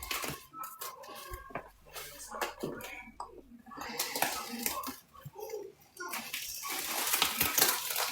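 Powder poured into pool water, churning up a heavy load of suds: splashing, bubbling water with uneven surges and brief lulls, loud and close, getting busier toward the end.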